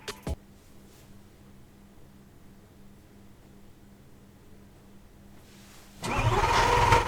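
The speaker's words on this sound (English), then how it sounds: "go ahead and turn on the ignition" A car engine cranks with a couple of sharp clicks as the ignition key turns, then after a quiet hum it catches and runs with a loud, steady, broadband roar.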